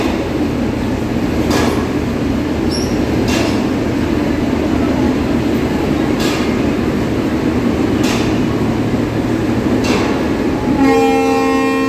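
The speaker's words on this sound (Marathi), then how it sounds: "आता ह्या इंजिन आपल्या ट्रेनला लागताला" An Indian Railways WAP-7 electric locomotive coupling onto the Mangalore Express at a Mumbai station, heard as a continuous loud rumble of train noise with faint clanks and a horn near the end.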